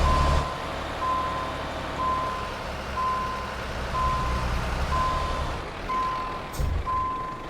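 Reversing beeps from a Volvo Globetrotter truck in Euro Truck Simulator 2, a steady run of evenly spaced electronic tones sounding over a low, continuous diesel engine rumble, with a brief air-brake hiss near the end.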